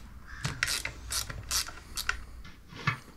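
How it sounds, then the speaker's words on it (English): A screwdriver backs out the screws mounting the pump on a GX CS2 portable HPA compressor, making quiet, close ratcheting clicks in irregular bursts with no talk. "Next thing we're going to do is get the screws that mount the pump removed and out of the way."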